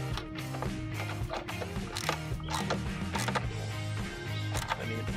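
Screws being driven into the plastic housing of a Corsa B wing mirror give close ratcheting clicks and mechanical grinding, with a steady busy texture throughout.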